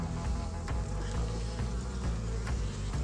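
Honeybees buzzing loudly around an open hive colony during an inspection, a dense close drone with rising passes as bees fly near.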